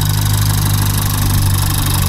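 A 1.5-litre, 131-horsepower car engine with about 90,000 on the clock idling at a used-car market, a loud, close, steady low hum and drone with no talk over it.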